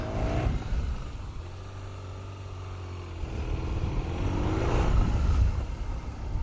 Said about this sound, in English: listen to the motor if you can